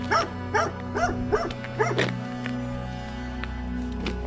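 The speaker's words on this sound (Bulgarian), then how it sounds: "Тук има някакво куче лаещо" A dog barks in a quiet mountain village street, a run of five or six evenly spaced barks over steady low background hum, then falling silent.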